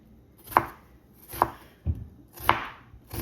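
A knife chopping small pieces of onion on a cutting board for a Jamaican vegetable stir fry: four sharp, separate thuds spaced about a second apart, close and clear with nothing else behind them.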